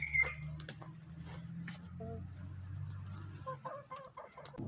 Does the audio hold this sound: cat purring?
no